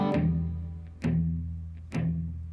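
Blues guitar strumming a basic shuffle beat: three evenly spaced strummed chords, each ringing out before the next, moderately quiet and alone.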